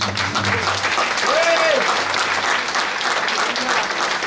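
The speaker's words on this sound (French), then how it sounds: "Acclame très fort Jésus" Church congregation applauding loudly and steadily, a dense wash of clapping filling the space, with voices and a brief sung or shouted tone rising over it.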